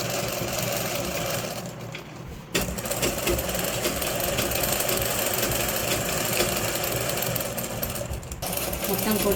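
A sewing machine stitches a fall onto the edge of a saree, running in a steady, close, dense whir. It stops briefly near the start and dips again near the end, with no talking.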